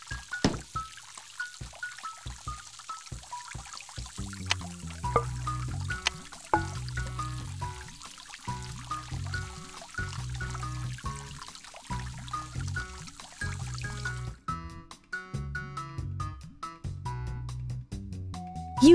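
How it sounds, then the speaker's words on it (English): In a kids' mobile science game, water pours into a dog's bowl as a gentle, steady splashing hiss under cheerful game music, cutting off near the end while the music carries on. "Now, how will you get the water into the bowl?"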